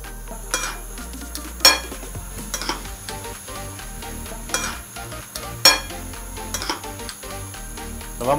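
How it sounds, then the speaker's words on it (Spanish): A spoon stirs a marinade of orange and lime juice for cochinita pibil in a bowl, with soft swishing and scattered clinks of utensil against the dish, close by and with no talk. "Lo vamos a mezclar bien"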